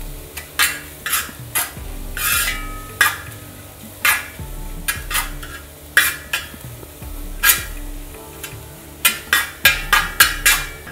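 Carrot and vermicelli frying in a pan for payasam sound as a soft, steady sizzle broken by frequent sharp scrapes and clinks of a metal spoon stirring against the pan in irregular bursts, close and without talking.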